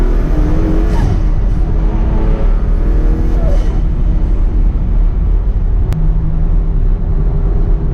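A Noble M12 GTO 3R sports car, a 2,150-pound manual with 400 wheel horsepower, drives with a loud, continuous engine roar and rumble, pitch sweeping up and easing off under acceleration, heard from close by.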